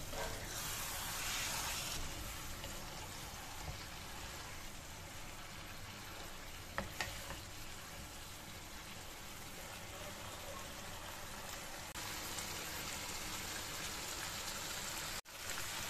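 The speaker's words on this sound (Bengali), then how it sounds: "এবার আমি মাছটাকে ভালো করে মশলার সঙ্গে কষিয়ে নেব।" Pangash fish pieces fry with spices and a splash of water in a pan, giving a steady, dense sizzle that runs for the whole stretch with only small shifts in level.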